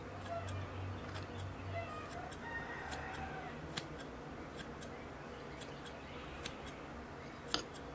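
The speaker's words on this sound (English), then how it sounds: "getting the scissors and trimming the tips off the moss" Sharp, crisp snips of scissors trimming moss tips on a bonsai pot repeat at irregular intervals, a dozen or so quick clicks close by over a quiet background.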